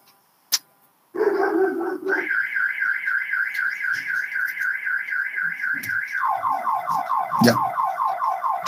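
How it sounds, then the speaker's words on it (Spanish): An alarm goes off nearby with a loud, continuous warbling electronic tone that pulses rapidly and shifts to a lower pattern partway through. A single brief word is spoken at the start. "se activó mi alarma"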